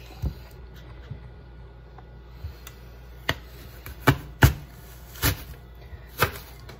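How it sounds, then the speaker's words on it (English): Apple slices being cut with a dull apple slicer in a home kitchen, a few sharp crunching snaps spaced irregularly over quiet background, with several clustered near the end. "they are the best thing ever for cutting apples"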